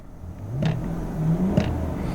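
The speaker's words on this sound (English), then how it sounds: "Let's rev the engine up." The V8 of a 2005 Lexus LS430 with about 203,000 miles is revved twice in quick blips from idle, smooth and close, settling back to a low hum between them.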